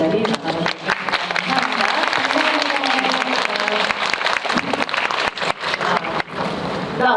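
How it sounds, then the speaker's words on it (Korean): Audience applause filling a room at the close of a film talk event with actress Ko A-sung, steady dense clapping throughout that thins slightly near the end. "저희 박수 치면서 오늘 이 자리 나가도록 하겠습니다"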